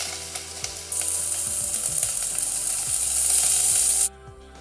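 Vegetables tossed into a hot pan on a gas flame for a Cajun salmon and sweet chilli bean stew give a loud, steady sizzle with scraping and stirring clatter, then cut off abruptly near the end.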